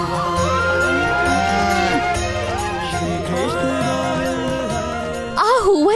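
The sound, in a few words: cattle mooing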